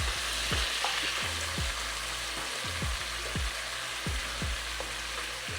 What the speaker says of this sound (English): throw all our shrimp down